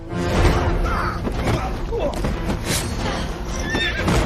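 Horse neighing and hooves clopping as a horse-drawn carriage makes an escape in a film scene, the whinny loud and near over a dense layer of thuds, music and commotion throughout.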